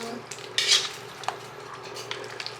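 A thickened dish is stirred in a pot, with a brief metallic scrape and a few light spoon clinks over a faint simmering hiss, close and short.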